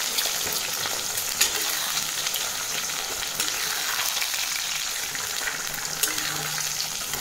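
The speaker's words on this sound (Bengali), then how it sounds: "ডিমটাকে আমি ভুজিয়া করে নেব।" An egg scrambled and fried in a pan, giving a loud, continuous close sizzle with occasional scraping stirs and no talking.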